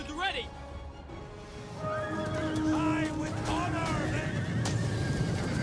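Horses whinny repeatedly amid battle noise and hoofbeats from horse archers in the Total War Rome 2 video game, several neighs overlapping over a busy, steady background.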